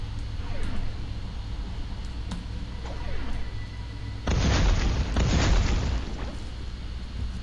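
Booming explosive blasts and rumbling bursts from shooting aliens in the video game Space Grunts 2, one louder burst partway through over steady background game noise.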